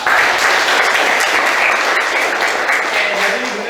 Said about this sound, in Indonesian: kasih tepuk tangan dulu untuk Zila